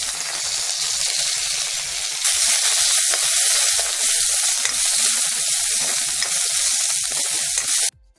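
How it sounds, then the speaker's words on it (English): Shallots sautéing in oil for brinjal masala crackle and hiss steadily up close, the sizzle growing louder partway through with soft stirring scrapes, then cutting off abruptly near the end. "Add little more oil. Then goes the shallots and saute well."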